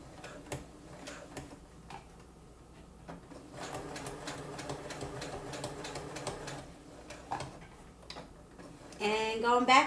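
A sewing machine stitches down a fabric flap with rapid, close ticking that starts and stops in bursts, and there is brief speech and a louder noise near the end.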